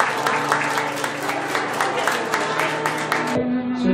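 Wedding guests at a small ceremony clap to welcome the groom's entrance, with steady, moderately loud applause over a sustained musical tone until it tapers near the end.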